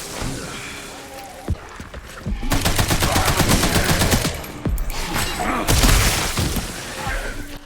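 Weapons fire in Resident Evil Requiem in rapid automatic bursts, loud and sharp, with two sustained volleys separated by single shots and impacts.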